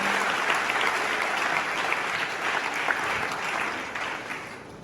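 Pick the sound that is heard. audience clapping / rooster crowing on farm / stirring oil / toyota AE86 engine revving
audience clapping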